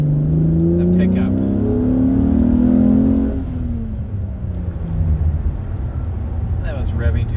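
A 2015 Chevrolet Camaro LT V6 with a cold air intake revs up to about 4,000 RPM, its note climbing in pitch, then snaps back and settles to a steady idle rumble, loud and close.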